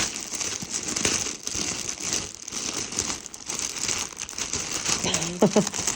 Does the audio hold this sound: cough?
no